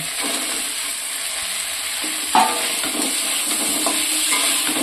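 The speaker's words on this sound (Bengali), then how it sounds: "এবার আমি আলু আর সয়াবিনগুলোর সাথে ভালো করে কষিয়ে নেব" Fried eggs sautéed with potatoes and soybean chunks in a pan, a constant close sizzle with occasional stirring scrapes and one sharper clink midway, no speech.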